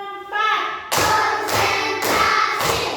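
Schoolchildren in a classroom clap together in a counted rhythm, loud sharp bursts repeating roughly every half second, with children's voices mixed in.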